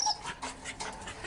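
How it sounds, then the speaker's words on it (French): A sad dog shut in a very small cage whimpers and pants softly at close range, breathy whines coming in short uneven bursts with no one speaking. "Comment pouvez-vous enfermer ce pauvre chien dans une si petite cage?"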